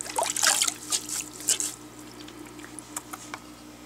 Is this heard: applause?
no